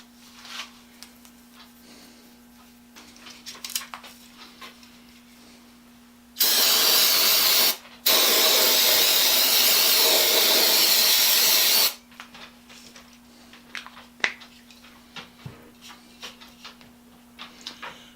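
Electronic contact cleaner sprays in two loud, steady hissing bursts, about a second and then four seconds, onto the wiring terminals of an old Craftsman 12-inch sander, with quiet clicks and handling noises before and after.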